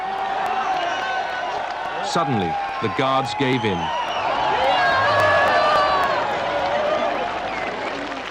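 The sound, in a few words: huge crowd cheering as the Berlin Wall falls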